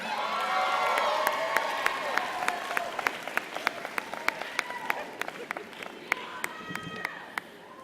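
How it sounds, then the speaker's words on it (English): Sustained audience applause fills a winter commencement ceremony for UIC College of Social Work graduates in 2014, a dense steady wash of clapping with sharp individual claps and a few scattered cheers, fading somewhat toward the end. "A round of applause for all of our graduates."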